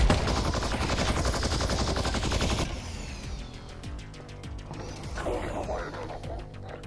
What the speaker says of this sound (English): Did that guy just shoot through the wall?